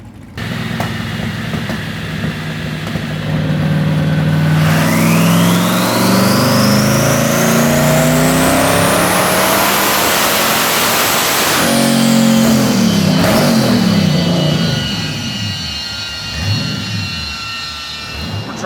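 A rear-wheel-drive twin-turbo V8 Honda Civic engine screaming on a dyno, revs climbing steadily to a sustained high-pitched wail before dropping off, very loud and close with a roaring, rumbling undertone, no talk.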